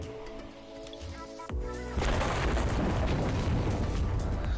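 Electric Cannon attack effect for Vikavolt in Pokémon TCG Online: a game sound that swells into a loud, sustained crackling electric burst and rumble, following softer tonal game sounds.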